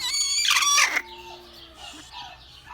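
A yellow İspenç hen lets out a loud, harsh squawking cluck, followed by softer, scattered clucks close by.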